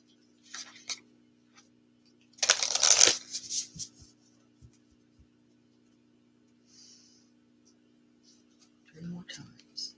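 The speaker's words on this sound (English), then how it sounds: "That was a beautiful shuffle there." A tarot oracle card deck is shuffled by hand in a quiet room, one loud riffle burst in the middle flanked by softer card flicks and taps, with a steady low electrical hum throughout.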